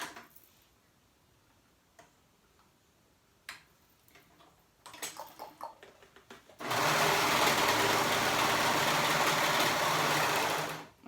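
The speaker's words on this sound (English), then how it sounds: "So now we're going to go ahead and sew up the sides." A sewing machine sews up the sides of a baby romper. Several seconds of quiet clicks and handling noises come first, then a loud, steady, close whirring run of stitching that lasts about four seconds and stops abruptly.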